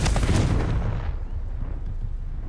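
A Confringo fire spell from Hogwarts Legacy bursts in a single loud, close explosion that opens with a sharp blast, then rumbles and decays over about two seconds.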